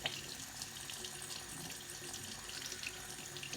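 Tap water runs steadily over hands being rinsed of henna in a sink, a continuous close hiss and splash with no voices.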